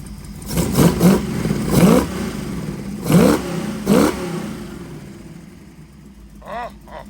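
A '32 Ford Roadster engine fitted with EMPI 8-stack carburetors in a Pierce 4 IDF conversion blips through several sharp, close throttle revs in the first four seconds, then settles to a low idle with a faint final rev.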